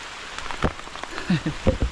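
Rain patters steadily on surfaces in a rural barangay in the Philippines during a sudden downpour, a soft continuous hiss with scattered drops, and a faint voice murmurs underneath.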